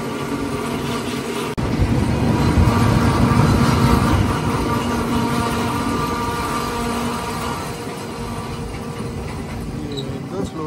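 Andaman Express passenger train near Nellore South railway station, a steady loud rumble of wheels and carriage that swells early then gradually eases as the train slows.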